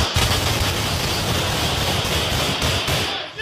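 Police gunfire inside a hospital, a dense sustained barrage of shots blurring into one loud continuous roar at close range, with no talk.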